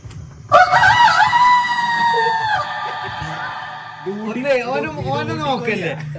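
A person mimics a rooster's crow, one long rising and wavering call, followed by more wobbly crowing-like vocal sounds close to the mic.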